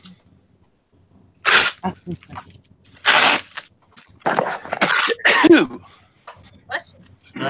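A loud human sneeze bursts out amid a lively morning show chat among resellers, with several people talking and reacting around it in a close, casual room.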